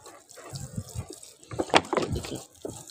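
Water splashes and trickles as it is poured into plant pots, with irregular gurgling bursts and drips, close and moderately quiet, no talking.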